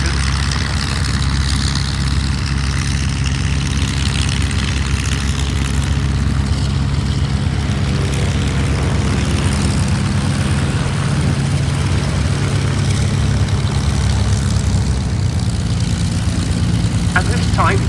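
A de Havilland Chipmunk propeller plane flies a display at RAF Cosford, its engine a steady, loud droning hum throughout, with a commentator talking over it on a public address.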